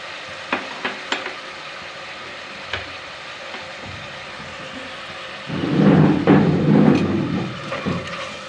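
Tomato and onion masala frying in a pan for vegetable biryani, stirred after salt is added. A few sharp taps and clinks come first, then a louder stretch of scraping and sizzling stirring near the end, with no talking.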